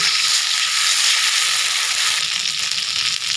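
Spice paste of green chili, ginger and cumin frying in a pan for a goat liver bhuna, giving a steady, loud, close sizzle that holds throughout without talk.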